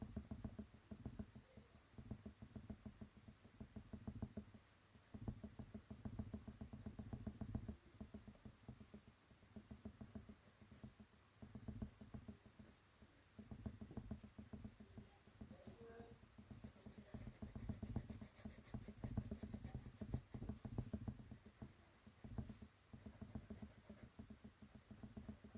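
Colored pencil rubbing and scratching across paper in steady, close strokes, a faint dry rasp with short pauses between passes; no talking.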